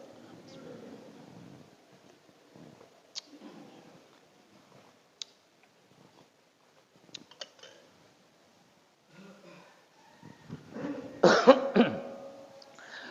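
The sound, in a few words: coughing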